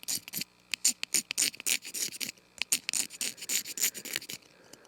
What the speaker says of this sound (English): That's the sound you want to hear when you're scraping behind the heart.